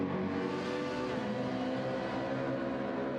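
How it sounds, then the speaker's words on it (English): A Mercedes GT race car engine in the video game Gran Turismo 7 roars steadily at high revs, a loud continuous droning whine with no talking. "This car makes such a lovely noise."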